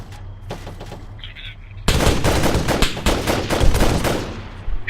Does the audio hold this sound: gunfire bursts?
yes